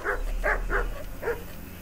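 Dog barking in the video game Kingdom Come: Deliverance, four short muffled barks in an uneven rhythm over a low steady background hum, moderately near and fairly quiet.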